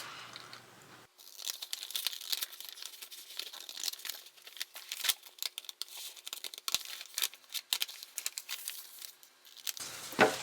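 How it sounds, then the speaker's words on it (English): Steady crinkling and crunching of a stiff paper grocery bag with sharp scissor-snipping bursts, close and continuous for several seconds. "we're going to take our scissors and cut that right off"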